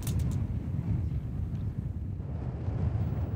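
Strong wind blows across an open outdoor skating event on the ice, a loud, steady low roar with gusty buffeting against the microphone and a faint high whistle at the start, no talking.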